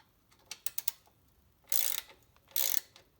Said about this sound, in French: Pour ça, on utilise le racagnat qu'on va placer à l'intérieur pour tenir l'écrou.